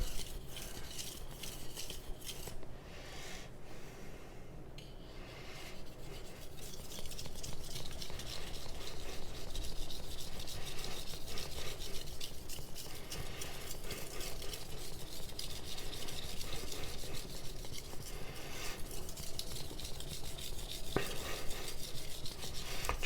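Long, steady strokes of a knife being sharpened on a Japanese natural whetstone, a continuous close scraping rasp that keeps going with little break and no talking.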